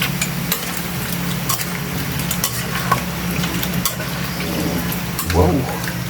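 A spoon stirs pork igado with tomato paste in a pot over the heat, with soft sizzling and scraping throughout and a louder clatter of the utensil near the end.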